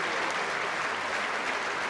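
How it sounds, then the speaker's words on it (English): Crowd in a rugby stadium applauds steadily at an under-20 international match, a dense continuous wash of clapping heard from a distance. "Warm applause around the stadium here in Narbonne."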